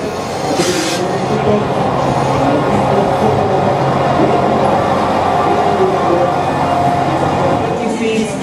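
Class 861 locomotive rolling in at a locomotive parade in Košice, a steady loud rumble of wheels and engine with faint crowd talk underneath throughout.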